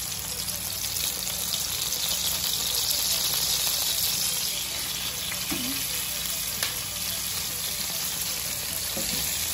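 A sauce of ketchup and vinegar simmers in a pan, giving a steady, fairly loud sizzling hiss with faint bubbling and a few small clinks, no speech over it.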